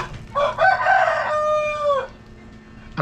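A rooster crows once nearby, a loud drawn-out call ending in a clear sustained tone, heard alone in a rural Philippine province setting.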